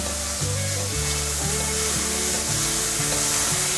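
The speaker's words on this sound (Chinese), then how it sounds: "快速翻炒，可以看到蘑菇的边边都已经焦黄色了" Mushrooms and yellow bell pepper stir-fried in a wok hiss loudly and steadily, with rhythmic scraping tosses running under a low hum throughout and no voices.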